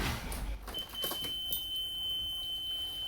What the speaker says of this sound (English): I want to test, does the window work